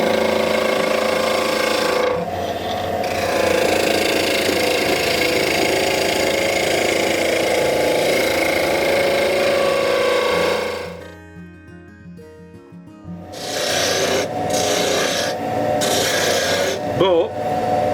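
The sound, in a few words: wood turning on a lathe with a chisel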